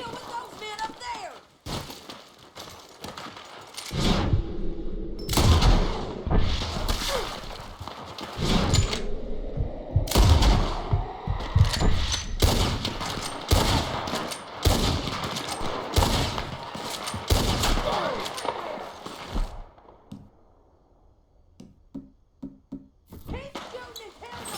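Gunfire in a shootout in Red Dead Redemption 2, with loud cracks and bursts of shots coming in waves over a long stretch, mixed with shouting voices and hoofbeats before the noise fades out.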